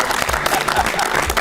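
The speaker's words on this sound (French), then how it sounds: "D'abord, on applaudit Maxime pour la prise de masse" A studio audience claps and cheers in a dense, steady burst of applause, close and continuous for the whole moment, with no talk over it.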